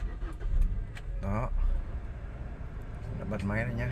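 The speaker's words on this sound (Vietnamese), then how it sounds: "đã bật máy rồi nhá" A petrol Kia Morning with a 1.25 engine starts up, a brief cranking burst followed by a quiet, smooth idle under someone talking close by.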